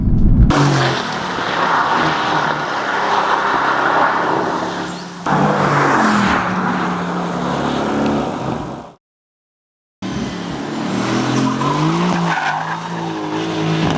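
Turbocharged Mercedes-AMG GT S engine revving hard, loud and close, with rising tire-squealing howls in repeated bursts and a brief silent gap before a final rev.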